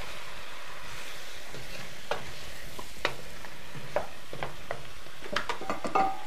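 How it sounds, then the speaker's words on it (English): A spoon works through a pan of spinach and pumpkin curry, giving soft sizzling under a scatter of sharp clicks and scrapes that grow more frequent toward the end. "Give that a bit of a stir."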